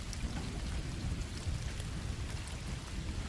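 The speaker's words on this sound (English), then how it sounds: "The rain beats against the window with fury." Heavy storm rain pours and beats steadily against a window, a dense continuous hiss with low rumbling underneath, loud and unbroken throughout.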